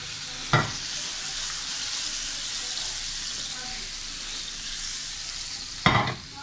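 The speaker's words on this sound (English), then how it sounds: "Let's put all three eggs in here for me." Eggs cracked into a mixing bowl for blueberry, banana and chocolate chip pancake batter: two sharp cracks several seconds apart over a steady hissing background.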